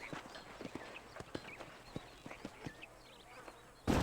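Horses' hooves clip-clopping at an even walking pace in the Red Dead Redemption video game, moderately close. A brief louder noise comes at the end.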